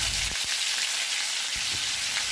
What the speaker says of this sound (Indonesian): Selanjutnya kita akan menggoreng tahunya. Ini digoreng sampai berkulit